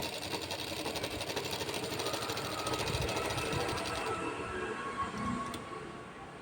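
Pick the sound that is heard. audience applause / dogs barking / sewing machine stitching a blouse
sewing machine stitching a blouse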